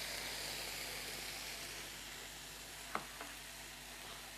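Kabab barg meat sizzles and fries in hot oil in a pan, giving a steady close hiss throughout with a couple of brief clinks near the end; nobody speaks.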